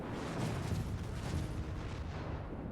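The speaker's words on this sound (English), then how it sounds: "Oh, that's a big explosion." A big explosion in the video game Honkai Impact 3rd rolls out as a dense, sustained roaring rumble that holds steady for a few seconds without any voices over it.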